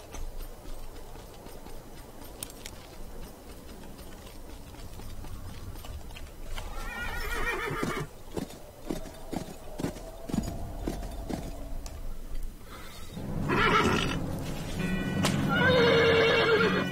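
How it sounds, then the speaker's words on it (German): In the Western video game Call of Juarez: Bound in Blood, a horse whinnies loudly and its hooves clip-clop in a steady rhythm beneath ambient game sounds, with a second, louder neigh near the end. "Das ist ein Pferd."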